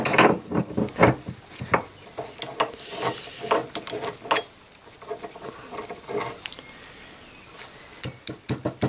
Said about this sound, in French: je vais déjà dévisser la vis